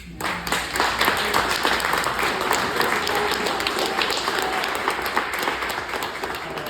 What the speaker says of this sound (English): Thank you for that round of applause, by the way.